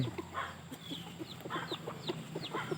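A flock of six to eight young roosters and chickens clucks steadily around a house in the evening, with soft repeated calls at middle distance over a low ambient hum and no talk.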